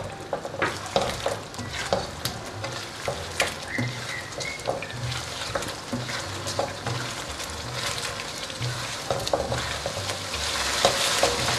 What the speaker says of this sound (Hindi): एक मिनट के लिए हम प्याज को अच्छे से भूनेंगे।